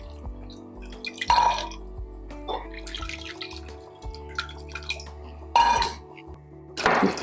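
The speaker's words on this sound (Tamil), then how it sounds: "இப்போ தேவையான அளவுக்கு தண்ணியை இதில் சேர்த்துக்கலாம்." Water goes into a pot of rasam made with soaked tamarind in a home kitchen, heard as short splashing pours and drips with light clinks of the metal pot against a quiet hum.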